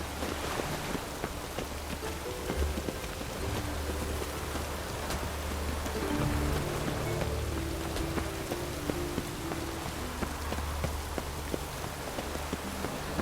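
Steady rain in The Witcher 3: Wild Hunt patters densely and evenly over a low rumbling background, with no talking.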